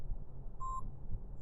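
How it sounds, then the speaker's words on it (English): A 2023 Polestar 2 sounds a single short electronic hands-on-wheel warning beep while cruising, a clean tone over a low, steady road rumble inside the cabin. "it's beeping at me like I don't have my hands on the wheel"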